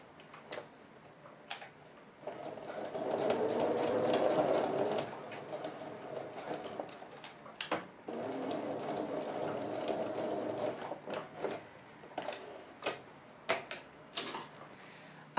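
A sewing machine runs in two sustained bursts, stitching bias binding onto a toiletry bag, with short pauses and small clicks and ticks of the mechanism between runs; close and moderately loud, with no talking.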